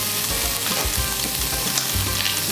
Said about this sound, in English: now we can throw the veggies into the wok and start cooking that